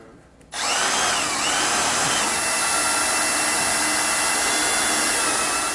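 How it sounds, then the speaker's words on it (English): A power drill starts abruptly and whines steadily at high speed, boring continuously through the steel frame rail of a 2017 Ford E-Series cutaway close by, with no talking. "we got to drill a hole"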